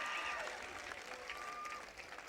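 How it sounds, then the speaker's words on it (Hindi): Scattered, subdued applause from a crowd at an outdoor poetry recital in Gulbarga, Karnataka, a thin wash of clapping with faint whistles and murmuring voices. "कमजोर तालियां बजी हैं"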